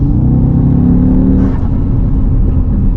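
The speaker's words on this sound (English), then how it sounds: "The sound of the intake is never going to get old for me." An Audi RSQ3 with a Stage 1 REVO remap, around 460 bhp, roars loudly and continuously, a deep throaty intake rumble that stays strong throughout, heard from close up.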